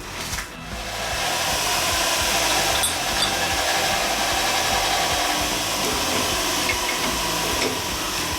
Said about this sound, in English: So let me deburr this and I'll come back and do that.